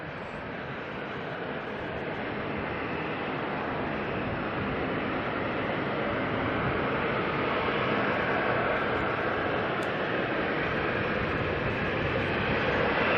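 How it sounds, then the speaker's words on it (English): A Boeing 737-800 freighter jet departing Auckland Airport for Sydney, a continuous broad engine roar that builds slowly and stays loud and steady for the whole stretch, with no talking. "the 737-800 freighter. This one's going to Sydney."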